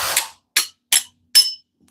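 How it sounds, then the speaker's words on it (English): Four sharp metallic hammer blows strike a rusted, stuck brake caliper piston, each a crisp, close clank separated by brief silences. "we take our hammer,"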